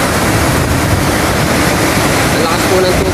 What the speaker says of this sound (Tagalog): Ang lakas po ng tubig ngayon